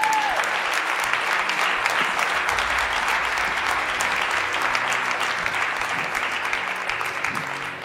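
A church congregation applauding and cheering, dense continuous clapping from a large crowd with scattered shouts, loud and sustained before easing slightly at the close.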